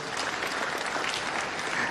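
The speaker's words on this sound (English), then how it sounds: "Please, a round of applause for our guests." Audience clapping for guests at an evening event against violence, a steady burst of applause from a crowd, dense and continuous for the whole stretch.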